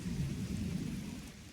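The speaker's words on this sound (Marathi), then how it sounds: "तर हे बघा वादळ किती आहे" Heavy unseasonal rain pours steadily during a Konkan storm, a dense low rumble of rain and thunder that holds loud and continuous throughout, with no voices heard.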